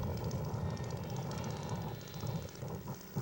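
A radio-controlled scale model airplane drones overhead at a scale aircraft show, its engine a steady buzzing hum at moderate distance that fades slightly toward the end.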